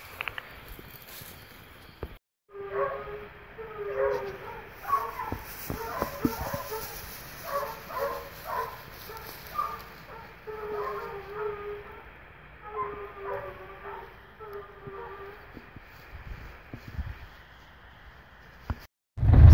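Hunting dogs on a wild boar trail in the brush give a run of repeated barks and yips, moderately distant, over rustling vegetation, ending in a sudden loud close thump.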